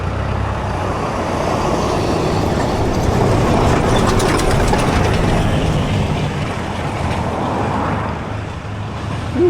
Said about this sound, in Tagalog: Teka, may truck.